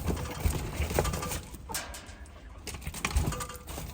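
Mohican pigeons coo softly inside a coop, a low murmuring amid scattered shuffling and wing noises, fairly faint and continuous with no speech.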